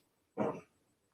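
A German Shepherd crossbreed gives a single short, close bark alone in a quiet room.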